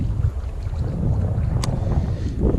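Cold wind gusting on a fishing outing rumbles steadily into the microphone, loud and close, with a brief sharp click partway through and no talking.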